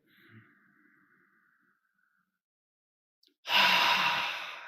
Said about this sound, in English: Now, please do deep breathing together slowly.